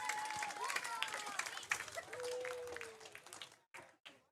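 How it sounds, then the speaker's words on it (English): Ballpark crowd cheering and clapping at a Santa Barbara Foresters baseball game after runs score, a broad sustained roar with whistles, tapering off near the end. "to hear the cheers, to hear the crowd after scoring runs"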